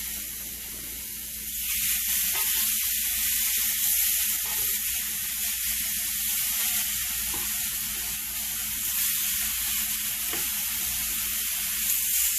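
Steaks sizzling on an indoor flat top grill: a bright, steady hiss that swells after a quiet start and holds loud and even with no talking.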